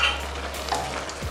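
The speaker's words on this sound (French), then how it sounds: "Je mélange bien." Vegetables being stirred with a spoonful of oil in a pot for a Congolese green-vegetable dish, a soft scraping stir over a faint steady sizzle, close and continuous with no talking.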